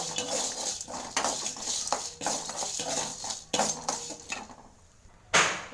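Fenugreek seeds, a piece of cinnamon and cloves being stirred and dry-roasted in a pan over a wood-fired stove, with repeated scraping metal clinks of a spoon in a steady rhythm, fairly close, with no talking.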